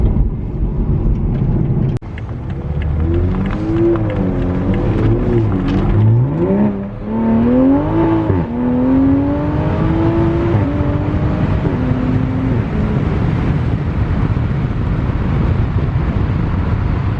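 Turbo, meth-injected Toyota Supra MKV accelerating hard through several gears, engine loud and close with rising pitch sweeps broken by quick drops at each shift, wind and road roar underneath, no talking.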